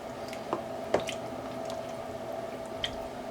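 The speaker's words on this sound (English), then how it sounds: "now just give this a nice little stir" Chicken back being stirred in a cooking pot, wet squishy slurps and a couple of soft drips from the thick liquid, close and fairly quiet with no talking.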